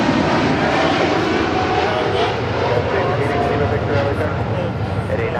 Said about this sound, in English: This is DHL, operated by Polar Air Cargo, Flight 9601, departing to Seoul on a 747-8 freighter.